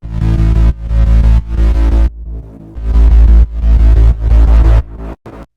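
Three layered bass sounds, one of them a deep sub bass, blended and compressed into a loud, thick throbbing line that runs in sustained sections with brief cutoffs, set in a chorus of a modern electronic Disney-style theme beat.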